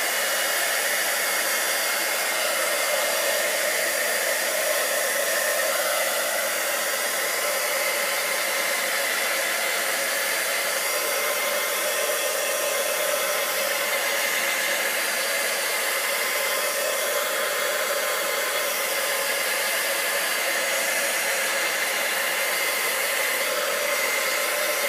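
Hair dryer blowing hot air to dry stamped ink on a paper card, a loud steady hiss and whirr that runs unbroken for the whole stretch, close by and with no talking.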